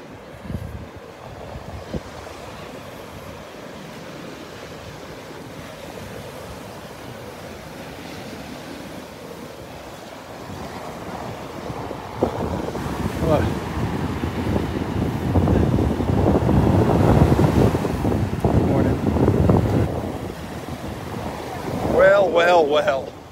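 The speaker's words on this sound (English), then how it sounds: "feeling that wind blowing in my face" Wind buffets the microphone on a Delnor-Wiggins beach while ocean waves rush in and surge louder midway, a steady roaring wash with a brief voice at the end.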